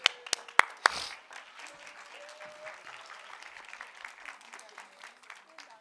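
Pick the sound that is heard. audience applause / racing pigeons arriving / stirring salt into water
audience applause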